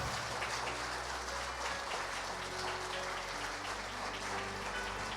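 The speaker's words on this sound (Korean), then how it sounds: "힘찬 박수 부탁드립니다." Soft, distant applause fills a hall at the 34th Daesan Rural Award ceremony in 2025, a continuous hiss of many hands over a low electrical hum.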